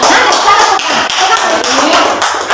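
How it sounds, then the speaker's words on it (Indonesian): A classroom group claps for group 1 after presenting their traditional Sikka bolo pagar cakes, a busy, close, continuous patter of many hands with voices mixed in. "Tepuk tangan untuk kelompok 1."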